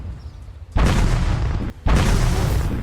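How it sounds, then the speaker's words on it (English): Mortar shells burst on bunkers in the World War One rat war game Ratten Reich, two loud booming explosions in quick succession, each a dense broad roar over a low rumble. "I try to bomb some enemy bush goblins, but the mortar has a limited firing area"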